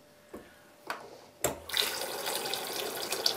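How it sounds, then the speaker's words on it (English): Water gushes from an opened household tap after a few clicks and knocks of the fixture, settling into a steady, fairly close splashing stream into a sink. "Turn off the stop tap and then open the tap to drain your system quickly."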